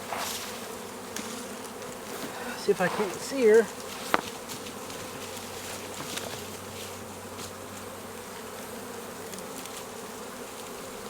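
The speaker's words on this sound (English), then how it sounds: "this is where the majority of the ball of the bees are" A low, steady honeybee swarm buzz hums throughout, with a brief louder burst near the middle and a quiet voice speaking over it.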